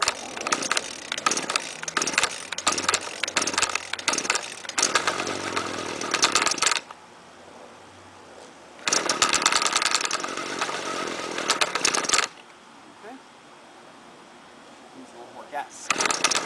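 A gas string trimmer's two-stroke engine roars loudly with the throttle held open in bursts, dropping to a low idle between runs, with a brief pause of quieter rumble near the middle.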